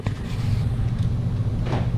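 A 2014 Ford Explorer idles steadily after its key fob battery is swapped, a low, even engine rumble close by with no talking.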